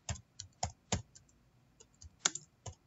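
Computer keyboard typing a name into quiz creator software, sparse, faint, close key clicks tapping in an irregular rhythm.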